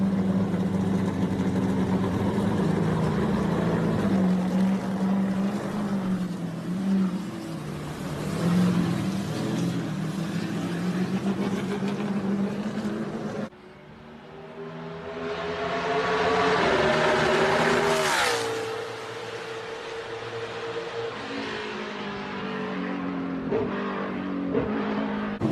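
V8-powered NASCAR race car engine, loud and sustained, droning and then swelling in a sharp rev that peaks and fades as the car pulls out, with no talk over it.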